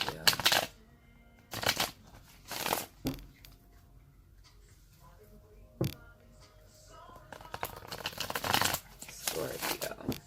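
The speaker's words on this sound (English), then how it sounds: "Cards don't want to shuffle." Tarot cards shuffled by hand in several close bursts of riffling and slapping, separated by quiet gaps with faint room noise.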